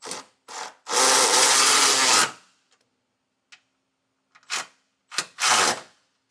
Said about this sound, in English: now we'll tighten it down with a 19mm or a 3/4 inch socket